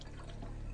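Water trickles and drips from a long-unused tap inside a horror video game, a faint, steady liquid flow close by with no voices over it.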